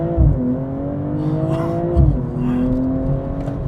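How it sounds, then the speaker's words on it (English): A 2022 BMW M240i launching hard under launch control, its engine note climbing in a loud, continuous rising drone, dipping briefly at a gear change before pulling up again, heard from inside the car. "So foot down, launch control active."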